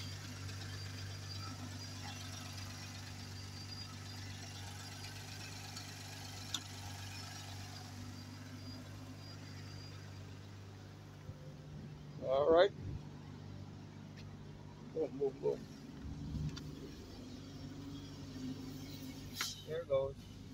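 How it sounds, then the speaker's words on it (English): A BMW G30 engine idles steadily in a low, even hum just after starting, with brief bursts of talk breaking in over the later part. "Alright, car now running."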